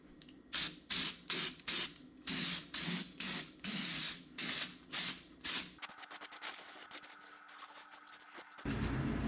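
An aluminum fuel pump and bracket get spray painted in a series of short, hissing aerosol bursts in a regular rhythm, followed by a longer continuous spray, close by, with no talking.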